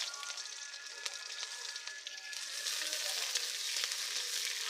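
Onions dropped into hot oil with nigella seeds sizzle close up, crackling steadily and growing louder partway through, with no talking.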